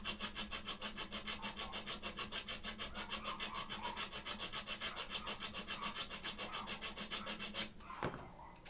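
A file rasping steadily back and forth over mechanical keyboard parts at a keyboard build bench, close and even in rhythm, with quick regular strokes that stop near the end.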